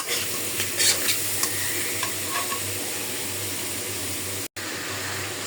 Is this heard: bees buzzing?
no